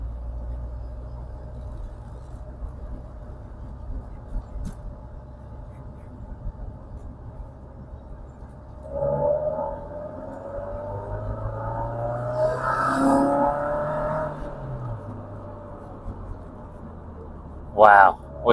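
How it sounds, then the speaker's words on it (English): A car engine swells as a vehicle passes close by on Cheddar Gorge's cliff road, a low rumbling whoosh rising and fading, with a voice talking over the steady background. "There's another car going."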